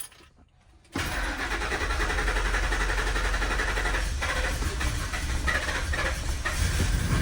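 A Ford F150 pickup that has sat unused for over a year cranks and fires into a loud, steady idle after a second of near silence, with a broad rumbling roar that continues throughout.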